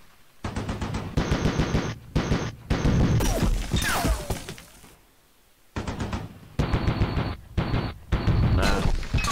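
A heavy machine gun fires in a Vietnam War strategy game: loud, rapid bursts of shots broken by short gaps, with a lull midway before more bursts follow.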